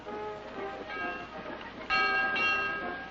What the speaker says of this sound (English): There's the school bell.